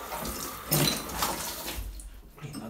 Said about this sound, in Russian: Так, а ну я попробую включить воду.